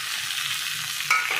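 Neem leaves and eggplant frying in oil make a steady close sizzle, which swells into a louder, sharper crackle near the end.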